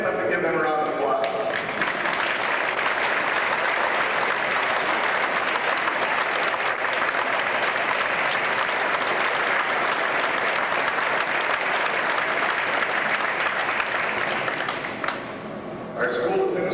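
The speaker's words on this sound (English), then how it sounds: "let's stand up and give them a round of applause" Reception audience gives a standing round of applause for wrestlers' families, a loud sustained crowd of clapping that runs evenly for the whole stretch before tapering off at the end.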